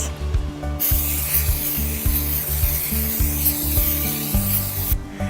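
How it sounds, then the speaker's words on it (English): Oil being rubbed over a preheated cast iron skillet resting on a heat pad, a close, steady run of wiping strokes with soft scraping texture and no voices. "you're going to oil your cast iron pan, or cast iron skillet"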